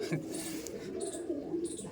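Andhra and Chennai Madras pigeons give soft, low, rolling coos close by, repeating in a steady murmur with no voices.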